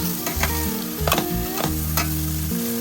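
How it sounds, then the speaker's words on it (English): Onions and carrots frying in a little coconut oil in a pan, a close crackling sizzle with occasional stirring scrapes, alone with no talk over it. "I greased the pan with coconut oil. As you can see, it's not much oil, so I added the onions and then the carrots to it and allowed to fry."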